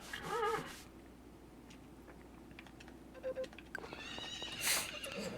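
Horse whinnies in the farming game Story of Seasons: Friends of Mineral Town, one neigh at the start and another near the end, with keyboard-like tapping and soft clip-clop between them.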